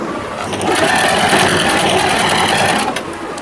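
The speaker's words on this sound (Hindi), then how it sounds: "इसके साथ यूं सिलाई करेंगे।" A sewing machine stitches fabric for a lehenga and dhoti costume, a loud close steady rapid whirring clatter running almost without break.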